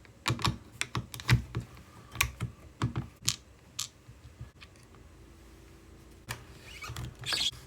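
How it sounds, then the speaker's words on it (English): Phillips screwdriver backing the top screw out of an Infuze bottle lid, heard as close, dry clicks and scrapes in irregular bursts, with quieter gaps between turns. "We're going to take this top screw out."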